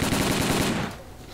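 Rapid automatic gunfire in STALKER Call of Pripyat, a loud, continuous burst of closely spaced shots that cuts off abruptly, leaving a fading tail.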